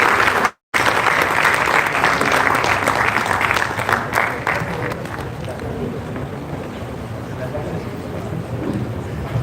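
Audience at a state-level Panchgavya doctors' conference in Rajnandgaon applauding to welcome the chief guest onto the stage, a loud sustained clapping that fades slightly toward the end.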